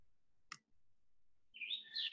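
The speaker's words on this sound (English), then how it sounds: "This is a black and white warbler also a breeder of on, in Long Island." A black-and-white warbler, a small spring migrant that breeds on Long Island, gives a thin, high, squeaky song phrase in the last second after a single sharp click, heard fairly close and alone.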